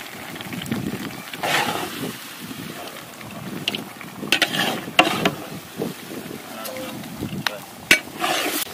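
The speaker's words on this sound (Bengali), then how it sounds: "মাংসটা খুব ভালো করে কষে নেব" Country chicken is stirred and fried in a pan for korma, with irregular scraping clacks of a spoon against metal over a faint sizzle, punctuated by a few sharper knocks.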